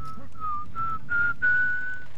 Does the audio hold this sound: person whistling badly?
yes